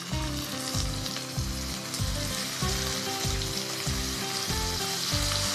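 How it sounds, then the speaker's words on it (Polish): Pork tenderloin sears in hot clarified butter in a frying pan, giving a steady loud close sizzle that crackles continuously throughout with no speech. "Na rozgrzany tłuszcz mięso."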